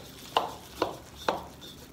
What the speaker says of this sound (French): Je rajoute mes 55 g de farine et je continue à mélanger.